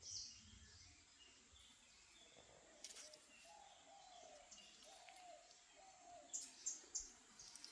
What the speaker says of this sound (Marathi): फक्त ऐका पक्ष्यांचे आवाज.